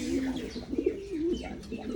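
Racing pigeons coo in soft, repeated rolling calls, close by and fairly steady, with faint background noise.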